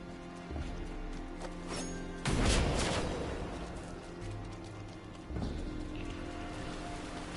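Rain in Diablo IV falls as a steady hiss of patter, with a louder crackling burst partway through and a later swell, all at a moderate, continuous level without talk.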